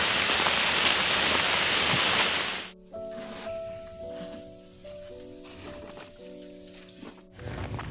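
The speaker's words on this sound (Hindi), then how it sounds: "बारिश हो रही है" Heavy rain pours steadily on open farm fields, a dense, loud hiss for nearly three seconds. It then gives way to sustained tonal, music-like sounds over a fainter patter, and the rain swells again at the end.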